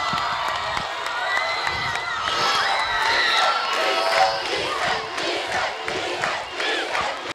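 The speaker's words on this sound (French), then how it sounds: "Tonnerre d'applaudissements" A big youth crowd at an event in Abidjan cheers, shouts and applauds loudly and continuously, with whoops and chanting voices mixed in.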